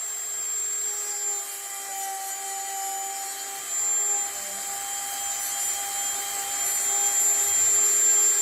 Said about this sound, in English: now I got the other bit on there, the sanding bit